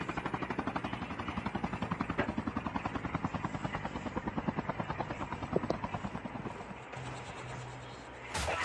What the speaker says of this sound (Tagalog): Sabog na yung helicopter.